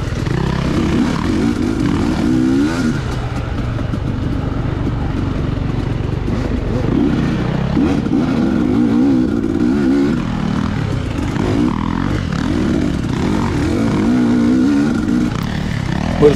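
A small two-stroke dirt bike threads through a tight wooded section during a sandy GP race, its engine droning steadily close by with constant revving and throttle changes.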